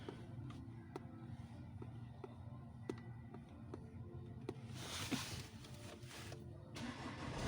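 A Skoda Octavia A7 with a 2.0 TDI diesel engine is started after timing belt replacement. Faint workshop ticks come first, then the engine cranks and catches into a low, steady running sound.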